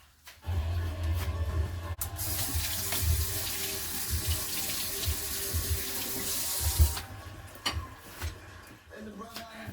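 Tap water runs steadily into a kitchen sink while a portobello mushroom cap is rinsed and cleaned by hand, a close, continuous splashing stream for most of the span before cutting off, with faint handling afterward.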